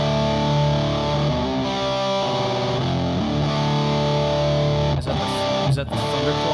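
A heavily distorted electric guitar rings out loud through an amp, sustained chords with a couple of brief breaks near the end.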